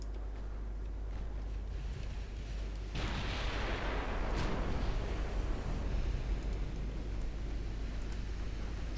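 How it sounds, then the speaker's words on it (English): Naval shellfire from 14-inch guns in the warship game Ultimate Admiral Dreadnoughts, with an Italian fleet engaging a light cruiser: a deep, sustained rumble of distant gunfire and explosions swells after a few seconds and rolls on with scattered sharp impacts. "Big 14-inch shells just going lengthwise through the entire cruiser."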